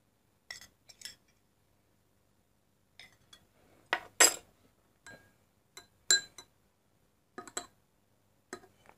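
A spoon clinks against a glass while stirring a mixture of black pepper and cinnamon, in short, sharp, scattered taps of uneven spacing, close and fairly quiet with silence between.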